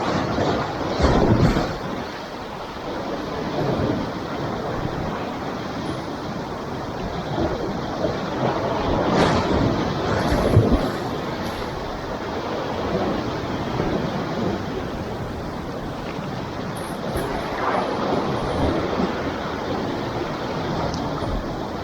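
Strong Black Sea waves wash and surge in uneven swells, heard from a fishing spot as a broad, continuous rushing roar with wind buffeting the microphone.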